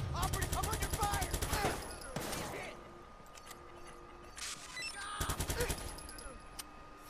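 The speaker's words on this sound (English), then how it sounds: "Operative, I'm under fire!" Rapid gunfire bursts from the Watch Dogs 2 video game, two dense volleys of automatic shots at the start and again after five seconds, with scattered clatter between them, fairly quiet in the mix.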